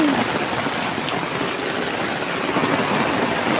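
A strong downpour hisses steadily and continuously, close and fairly loud. No one speaks, and the sound stays even throughout.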